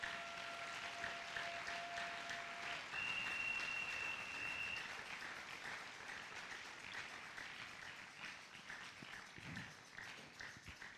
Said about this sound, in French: Est-ce que nous pouvons acclamer très fort le Seigneur?